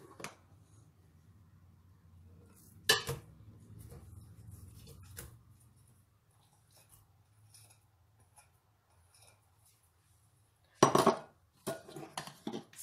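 Washed mutton keema is tipped into a metal cooking pot for a Pakistani biryani, giving two short, sharp clatters of metal on metal, one early and one near the end, over quiet kitchen background.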